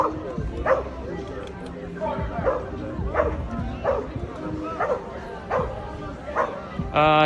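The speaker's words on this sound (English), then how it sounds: "Cattle dog and some other mix." A cattle dog mix barks repeatedly in a steady rhythm of sharp yips, close and clear, with people talking alongside.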